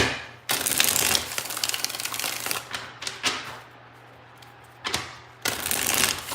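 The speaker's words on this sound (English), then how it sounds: "Let's get 5 shuffles here" Tarot cards are shuffled in several quick riffling bursts separated by short pauses, close and crisp, with a quiet steady hum underneath.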